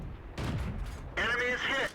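A tank cannon shot strikes an enemy tank in World of Tanks, with a 43M Toldi in play: a short burst of gunfire and impact followed by a clipped radio-style voice, heard close in a brief game sequence.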